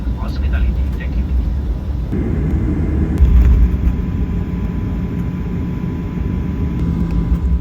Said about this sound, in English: It's now time for takeoff on runway 32 left.